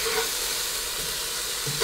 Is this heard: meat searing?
yes